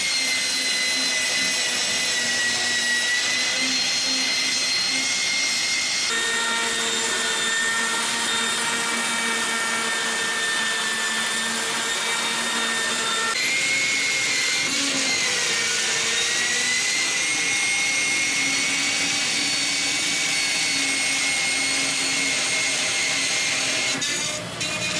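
Steel frame plating being cut on a Chevelle during rear frame plating and mini tub work, a loud continuous high-pitched whine of a cutting tool that shifts pitch several times over a long steady run, with no talking.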